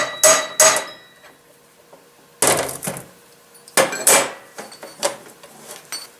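Axle nut on a Nissan D21 Hardbody rear axle hammered tight with a blunt chisel, sharp metallic strikes in close irregular clusters with short pauses between, loud and close.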